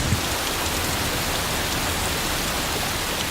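Heavy rain pours steadily on the wet side of Kauai, Hawaii, a dense, constant hiss with no pauses, loud and enveloping with no voices.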